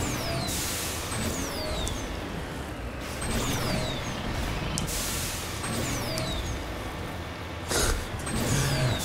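Vehicle rumbling across rough, uneven terrain in Mass Effect, a steady engine drone with intermittent whooshing bursts and thumps from bumps, fairly close and continuous throughout.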